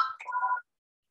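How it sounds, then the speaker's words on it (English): A mobile phone rings with a short melodic electronic tone of about half a second, close and fairly clear on its own, then stops abruptly. "Excuse me, my phone."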